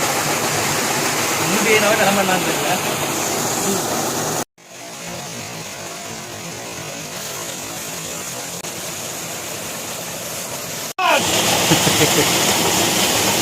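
A hillside waterfall running full after heavy rain near a village, giving a loud, steady rushing roar that cuts out abruptly and returns twice, close and continuous.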